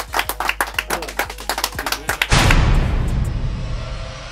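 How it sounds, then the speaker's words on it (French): Applause on a television talk show, with quick, close hand claps for a couple of seconds that then give way to a loud, dense wash of crowd noise that continues to the end. "Applaudissez."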